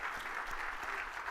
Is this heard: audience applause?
yes